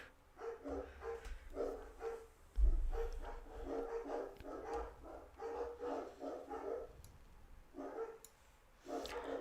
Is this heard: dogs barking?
yes